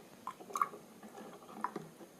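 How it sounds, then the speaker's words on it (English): Water poured into a vintage dollhouse: faint, close dribbles, drips and small squishy splashes coming in a few scattered bursts over a quiet background. "I've got a little bit of water I'm going to pour into this"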